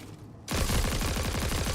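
A rapid-fire gun in the Destiny 2 video game opens up after a brief quiet lead-in, loud close shots in a steady, quick rhythm.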